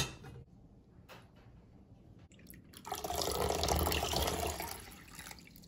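Tap water runs into a cooking pot for wild rice, a steady broadband gush swelling midway and easing toward the end after quieter drips and handling noises at the start.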